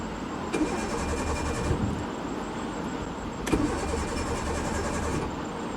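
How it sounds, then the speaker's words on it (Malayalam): A Maruti Esteem with an electrical fault cranks in two bursts against a steady loud engine and road rumble, close by with no talking. "ഇനിയിപ്പോൾ നമ്മളങ്ങനെ വണ്ടീൻ്റെ ഉള്ളിൽ കയറിയിട്ട് വണ്ടി ഒന്ന് സ്റ്റാർട്ടാക്കാനുള്ള പരിപാടിയിലാണ്"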